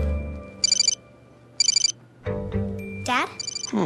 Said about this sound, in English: The picture's ringing.